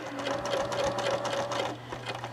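Sewing machine stitching binding along a quilt edge, a quick steady mechanical whir of needle strokes running continuously at close range before slowing at the end.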